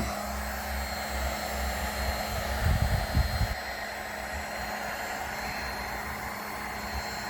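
A heat gun blows hot air over a headlight housing during a custom halo headlight build, a steady, close whooshing hiss with a brief rougher rustle partway through.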